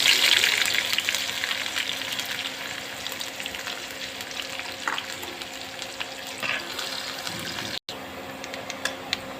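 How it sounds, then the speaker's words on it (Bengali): Chopped onions and chilies sizzle in hot oil in a frying pan, a steady broadband hiss with occasional crackles and stirring scrapes, close up and alone. "এখন দিয়ে দিব কেটে রাখা পেঁয়াজ মরিচ।"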